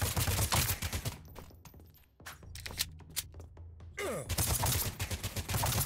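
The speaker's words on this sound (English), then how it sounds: "dude with the shield firing at me" Rapid bursts of gunfire from a shield-carrying enemy in the video game Badass Hero, a dense crackling volley that thins into scattered sharp shots midway and then returns as sustained loud firing.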